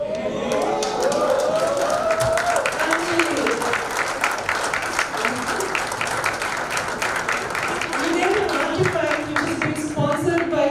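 An audience at a members' day party gives sustained applause, a dense steady clatter of many hands lasting several seconds, with talking voices and music heard beneath it.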